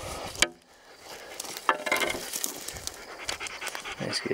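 A dog pants rapidly and steadily close by, a quick rhythmic breathing that runs through the whole moment alone.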